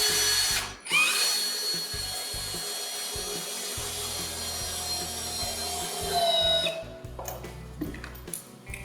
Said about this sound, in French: on les visse de la même manière.